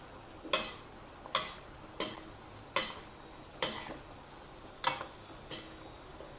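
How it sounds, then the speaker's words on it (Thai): Shallots deep-frying in hot oil for crispy fried shallots, stirred now and then: a steady low sizzle broken by sharp, close scraping or tapping clicks about every second, no voices. "เจียวมาสักพักแล้วนะเราก็ขยับขยับ เขาเป็นครั้งคราวนะคะ"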